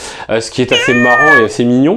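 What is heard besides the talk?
cat meowing softly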